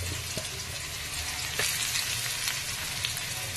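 Chopped onion and curry leaves frying in hot oil in a pan, giving a steady close sizzle with a few scattered pops and stirring sounds throughout.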